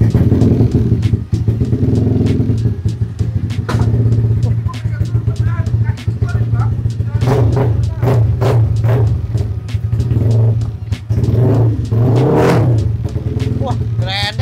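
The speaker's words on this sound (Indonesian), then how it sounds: "Emang ya kalau CC itu nggak akan bohong dengan suara knalpot." A Yamaha Aerox scooter with a loud free-flow exhaust rumbles steadily up close and revs repeatedly in short bursts, with voices talking over the engine throughout.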